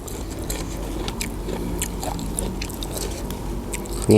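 Close-up eating of khanom jeen rice noodles with fermented fish sauce: soft irregular biting, chewing and slurpy squishing sounds, fairly loud, with a sharper clatter at the very end.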